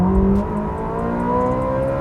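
Ferrari 360 engine droning and revving steadily from inside the cabin while driving, a continuous mid-pitched hum with shifting harmonic tones.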